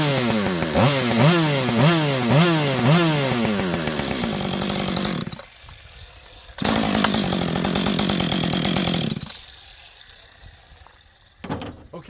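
A used auction chainsaw with auto-tune fires up and revs repeatedly in rising and falling bursts, loud and close, then drops to idle, briefly cuts out, and roars again before falling quiet.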